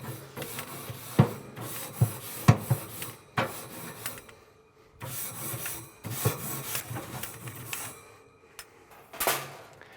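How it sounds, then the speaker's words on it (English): Grates of a Yoder YS640S pellet grill are scrubbed with a brush in rough back-and-forth rasping strokes, loud and close, coming in bursts with short pauses. "Let's give the grates a scrub."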